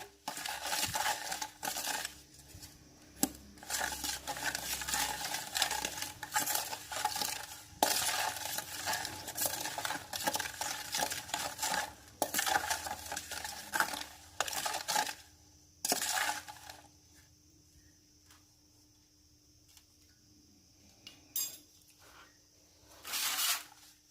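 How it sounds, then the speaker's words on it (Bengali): Homemade dish wash liquid ingredients stirred together in a container, with repeated scraping and clinking strokes and dense clattering bursts, close and fairly loud, thinning to quieter scattered stirring near the end. "এবারে সবকটি জিনিসকে খুব ভালো করে একে অপরের সাথে মিশিয়ে নেবো"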